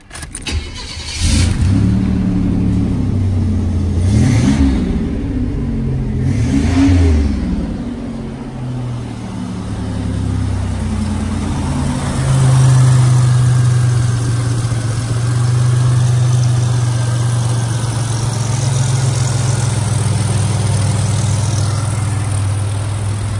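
A 1987 Buick Grand National cranks over, catches and settles into a steady, close-up idle with a low, even engine drone that holds to the end, with no voices.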